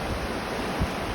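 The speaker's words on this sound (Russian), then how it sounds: "горная река." A mountain river in a high-altitude trout-fishing area, flowing with a steady, moderately faint rushing wash and one soft low thump partway through.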